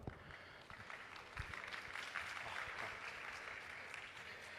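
An audience at an AI conference lecture in Gwangju claps in a steady, dense patter of many hands, heard faint and distant throughout the clip.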